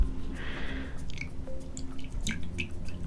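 Drinking water trickles and drips into a container for slime-making, with a short gurgling pour followed by scattered wet drips and small clinks.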